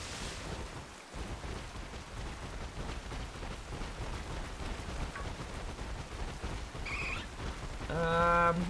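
Steady rain hisses in a Pokémon video game, a soft, even patter that continues throughout with a few faint game chimes near the end.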